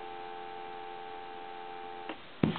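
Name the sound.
telephone dial tone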